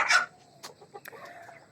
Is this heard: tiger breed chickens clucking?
yes